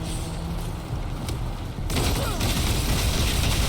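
Gunfire in the Wasteland 3 video game, a burst of shots and booms that swells into a dense, loud barrage in the second half, with faint talk in the mix.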